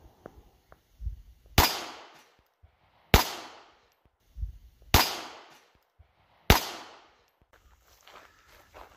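A Beretta 81 Cheetah .32 ACP pistol fires sharp, loud reports with quick decaying echoes, spaced about every one and a half seconds at an outdoor range, with faint handling noises in between.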